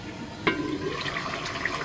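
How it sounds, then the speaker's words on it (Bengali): Water from a rinsed yogurt bowl poured into a pot of mutton rogan josh, a short splash near the start followed by a soft, steady trickle, close and fairly quiet. "এই যে দইয়ের বাটিটা ধুয়ে একটু জল দিয়ে দিচ্ছি অল্প।"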